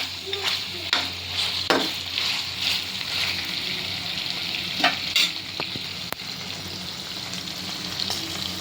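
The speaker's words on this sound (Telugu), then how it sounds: "చక్కగా ముక్క కూడా ఆయిల్లో ఫ్రై అయిందండి" Chicken pieces in a masala fry in oil with a steady close sizzle, broken by several sharp scrapes and clinks of a spoon stirring through the pan.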